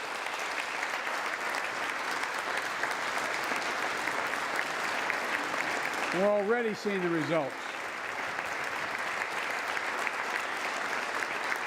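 Sustained applause fills a joint session of Congress during a presidential address, a steady roar of clapping from a large crowd with a brief spoken line rising above it midway.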